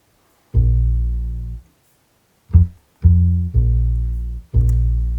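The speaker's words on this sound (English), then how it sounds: "I have a bass, which is just a stock bass from Logic Pro" A deep synthesized bass, a stock Logic Pro bass, plays alone, a few sustained low notes separated by short gaps, including one brief note, clean and close.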